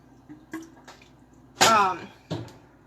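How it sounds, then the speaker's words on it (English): More water is poured into a homemade tamarind drink. A few soft splashes and drips lead up to one louder, brief pour midway, followed by a final quieter splash. "I'm going to start adding more water"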